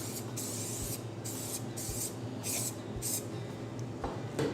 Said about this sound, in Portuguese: com a forma, eu vou passar o spray